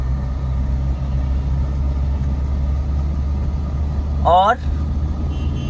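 A car's engine hums at a low, steady pitch while it picks up speed gently during a driving lesson on narrow streets, with an instructor's voice briefly speaking over the rumble near the end.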